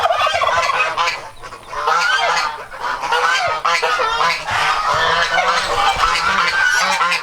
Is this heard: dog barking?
no